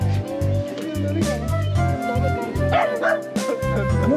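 Kooikerhondje puppies yip and bark repeatedly at a puppy party, a busy overlapping chorus of high excited barks and whimpers close by, with some voices in the background.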